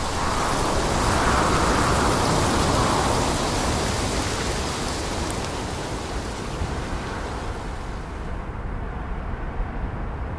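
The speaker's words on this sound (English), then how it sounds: "When heat and drought relent for a few short spring weeks, mist and rain can take over." Steady spring rain pours over wild Portuguese countryside, a dense continuous hiss that stays loud and even throughout with no voices.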